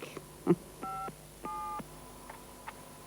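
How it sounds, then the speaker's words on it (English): Telephone keypad dialing, with a short run of distinct tone beeps: a few brief ones, two longer held tones, then more short ones. The tones are uneven in rhythm and fairly faint, close, and heard alone without talking. "You can't pick up a phone and dial?"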